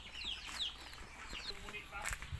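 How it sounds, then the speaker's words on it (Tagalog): Native chickens clucking on a farm, several soft calls scattered through the moment under low ambient noise. "Ito yung aking mga manok na native at saka pato."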